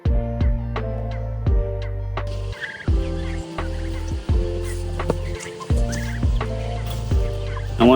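Chickens cluck loudly and repeatedly, short harsh calls coming in quick bursts close to the microphone.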